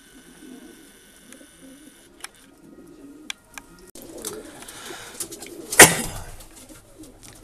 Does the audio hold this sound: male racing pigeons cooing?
yes